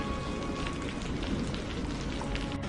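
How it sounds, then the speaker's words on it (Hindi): Torrential rain pours down outside on a cold dark night, a steady heavy hiss and patter of drops with no pauses and no voices. "बाहर मूसलाधार बारिश, ठंडी हवा और अंधेरा।"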